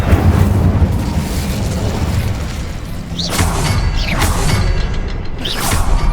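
Incendio fire spell cast in a Harry Potter video game, a dense roaring burst of flame with booming rumble and whooshing swells that flare again several times over six seconds, loud and close.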